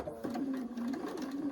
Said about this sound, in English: I'm going to go to the sewing machine.